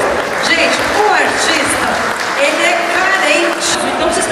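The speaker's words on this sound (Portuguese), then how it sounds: "aplaudiu bastante o artista" Audience applause for an artist at a silver jubilee celebration, a dense, loud wash of clapping that runs the whole way through, with voices and background sound mixed under it.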